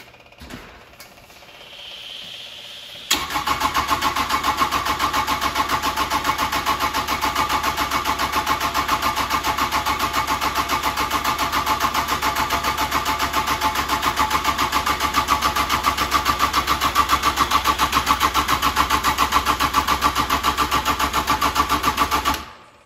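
A Kubota diesel engine cranking steadily for about twenty seconds while air is bled from its injection pump lines, a loud, even mechanical churn after a faint lead-in, stopping at the very end with no voices.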